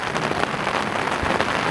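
Heavy rain pouring down in Oklahoma during a storm, a dense, steady hiss of drops on surfaces, loud and unbroken throughout the short stretch.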